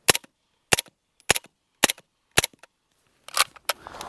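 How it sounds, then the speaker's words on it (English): Five evenly spaced suppressed gunshots from an MP5 SD fired into dirt, each a muffled, close thump about half a second apart, followed by a couple more shots and some shuffling noise. "I'm just going to shoot 5 rounds into the dirt with the MP5 SD to set the standard."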